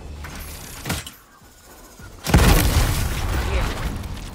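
A video game airstrike lands with a sudden heavy boom after a brief quieter stretch, the blast settling into a sustained rumbling roar that slowly fades, preceded by an earlier smaller thump.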